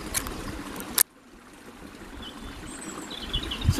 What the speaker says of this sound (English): did you hear all that water?